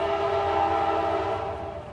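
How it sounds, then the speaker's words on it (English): A train rolls past close by, steady and loud with sustained horn-like tonal bands and a rumbling low end, easing slightly toward the end, with no one talking. "And cue the train."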